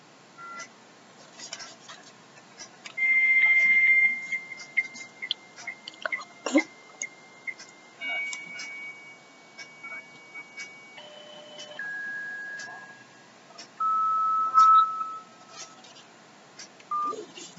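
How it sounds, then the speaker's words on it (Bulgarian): Phone-line tones on a call: a series of steady electronic beeps and ringing signals at different pitches, repeating in spaced bursts with soft background clicks. "Звъни в момента."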